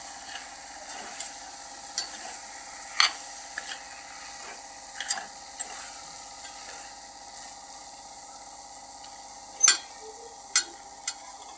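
Sugar and jaggery syrup being stirred in a pan over a low flame for sweet pongal: a soft, steady simmering hiss with scattered light scrapes and taps of a spoon against the pan, fairly quiet and close, no voices.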